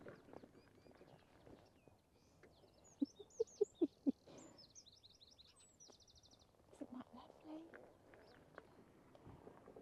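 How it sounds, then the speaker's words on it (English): Songbirds trill and chirp at moderate distance along a Cornwall north coast walk near Bedruthan Steps, a run of sharp clicks or footsteps sounding briefly in the middle, with quiet outdoor ambience and faint voices. "You hear the birds."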